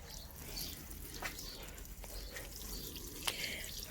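Water poured onto dry worm farm bedding in a bin, faint soft trickling and dripping with a few small splashes, quiet and close with no talk.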